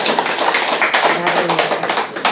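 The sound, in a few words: audience applause at a lecture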